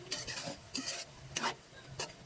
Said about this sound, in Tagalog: Haluan lang natin ito ng mga 5 minutes.